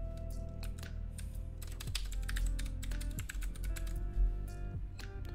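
Password being entered on a computer keyboard while creating an account on a website, a steady run of close, crisp key clicks with a few heavier taps and no talking.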